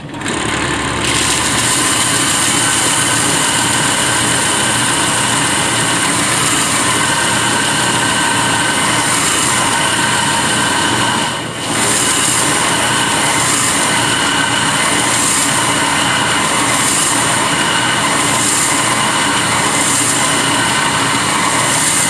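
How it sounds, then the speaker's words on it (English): A bench sander grinds a curve into a block of walnut firewood, a steady loud whirring drone with a continuous abrasive hiss that holds nearly unbroken, dipping briefly once midway. "we're over here at the bench sander. We're going to sand a curve into this block here."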